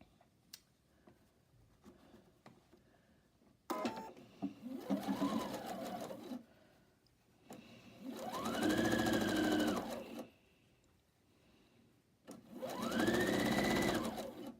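Quilt blocks being sewn together on a sewing machine, which runs in three separate close, loud bursts of rapid stitching, each a few seconds long, separated by quieter pauses with faint handling clicks.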